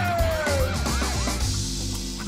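Wailing ambulance siren effect, loud and close, its pitch sweeping up and down for about a second before fading into a steady background hum.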